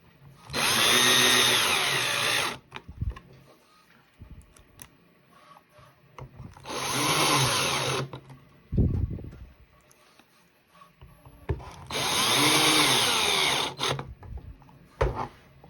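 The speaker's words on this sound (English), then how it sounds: "you take the rest of the 4 shorter screws, screw them in" A power screwdriver drives short screws into the lid of a NuclearHazard Core kit, version 7, in three steady whirring bursts of about two seconds each. Small clicks and handling noises fall between the bursts; close and quiet.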